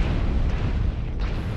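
Airstrike explosions in MechWarrior Online, a continuous deep rumbling roar of blasts with muffled booms layered together, loud and steady throughout.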